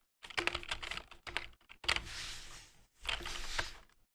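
Python code typed on a computer keyboard, bursts of rapid close key clicks separated by short pauses, quiet and with no talking.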